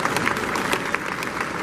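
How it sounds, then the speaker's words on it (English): A brief burst of applause from an audience at an event honouring the Jesse White Tumbling Team in its 58th year, with steady, moderately distant clapping over a dense crowd wash. "So how about a round of applause for that?"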